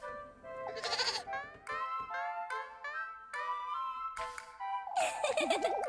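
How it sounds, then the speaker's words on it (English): An indoor goat bleats several times in a row, loud quavering cries with short gaps between them, the last ones rougher and overlapping. "Now the goat's inside again."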